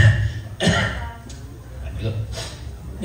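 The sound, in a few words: cough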